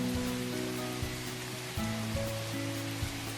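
Steady rain from a video game scene, a constant soft hiss of falling water with faint low tonal layers running beneath it, with no voices.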